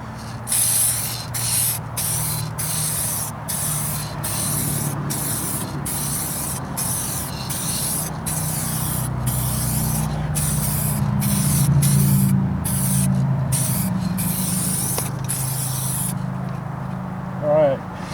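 Spray gun hissing steadily while applying a second coat of paint to a vehicle's rocker panels, in repeated bursts with brief gaps, close and fairly loud.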